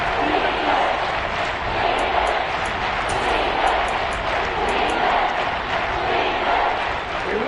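Stadium crowd at a football game roaring in a steady, loud wash of cheering and shouting that fills the whole stretch, with no clear breaks.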